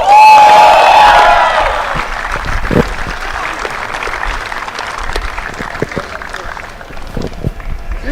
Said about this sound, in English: Big round of applause for Manoj.